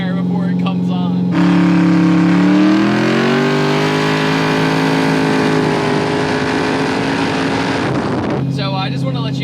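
A 1200-horsepower twin-turbo LSX-swapped Cadillac Escalade surges hard under acceleration, its engine note climbing in a loud, sustained rising drone for several seconds before easing off, with brief talk at the start and end.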